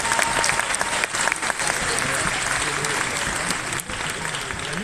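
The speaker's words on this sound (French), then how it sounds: "on peut l'applaudir bien fort" Loud, sustained audience applause fills a cosplay final at Paris Games Week 2025, with dense clapping and a few louder bursts in the crowd.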